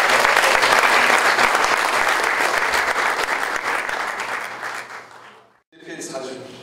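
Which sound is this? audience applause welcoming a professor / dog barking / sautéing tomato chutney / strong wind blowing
audience applause welcoming a professor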